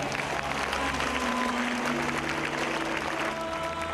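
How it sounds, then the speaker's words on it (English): Keynote audience clapping for themselves at a motivational event, a steady full-room burst of applause with faint crowd murmur, loud and sustained throughout. "Give yourselves a clap."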